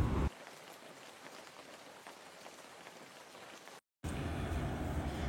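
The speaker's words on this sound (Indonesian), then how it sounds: "Di luar tuh masih hujan" Steady rain falls outside, a soft continuous patter of drops on surfaces, fairly quiet, with a brief gap and then a louder, closer stretch of rainfall.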